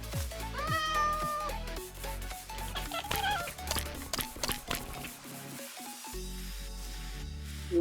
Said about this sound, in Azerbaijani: İndi qarşı tərəfdə bir dənə pişik çağıracaq.